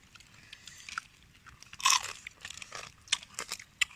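Crisp crunching bites into cooked field crab, a few sharp cracks with short chewing crunches between them, close and fairly quiet, no talking.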